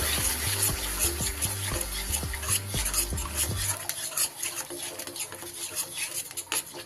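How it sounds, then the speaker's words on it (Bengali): Beaten sour yogurt goes into a katla fish kaliya masala frying in oil, a few spoon clinks against the pan, then steady sizzling and stirring, close and without speech. "এইবার আমি এই অবস্থায় এখানে দিয়ে দেব 2 চামচ টক দই। ভালো করে ফেটিয়ে নিয়ে এটা দিয়ে দিলাম।"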